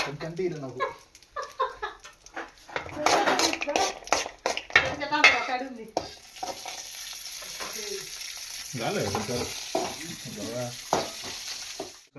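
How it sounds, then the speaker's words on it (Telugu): Chopped almonds and cashews fry and sizzle in a little oil, with stirring scrapes and clinks from a pan, heard under intermittent talking that gives way to a steadier hiss in the second half. "బాదం పప్పు జీడిపప్పుని చిన్న చిన్నగా కట్ చేసుకొని వేయించుకోవాలి"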